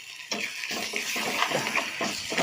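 Mixed liquid poured into a cooking pot for a taro stem theeyal, a soft continuous splashing and gurgling stream in short bursts, close and fairly quiet.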